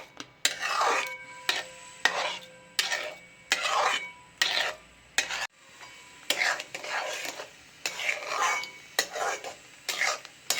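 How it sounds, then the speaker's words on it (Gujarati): Suji halwa with milk and cardamom powder being stirred in a pan, giving repeated scraping, rubbing strokes in a steady rhythm, fairly close and moderately loud, with no talking. "હવે હલાવતા જઈશું."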